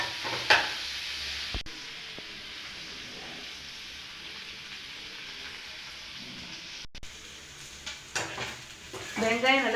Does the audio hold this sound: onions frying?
yes